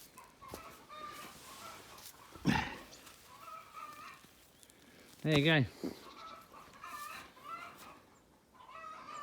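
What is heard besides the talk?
chickens clucking on a farm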